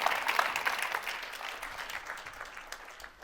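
Applause from the audience at a women leaders' global forum in Reykjavík, a moderate burst of clapping that fades gradually over a few seconds, with no talk.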